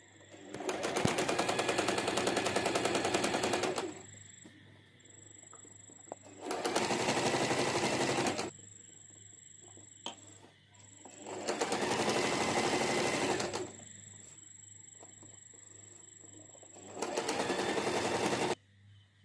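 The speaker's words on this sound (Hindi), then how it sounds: "अब मैं इस पर सिलाई लगा देती हूँ," An electric sewing machine stitches a shirt collar in four long, rapid bursts of loud, even mechanical whirring, separated by short quiet pauses.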